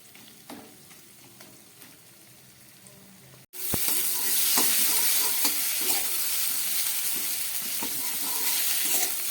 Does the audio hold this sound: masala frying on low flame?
yes